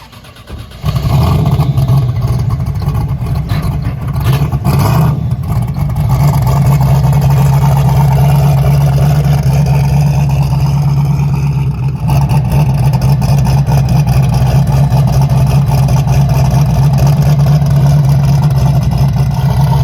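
A race car engine fitted with a new 98mm Precision turbo fires up and then runs loud and close, a steady rough idle with low pulsing, occasional blips and no talk.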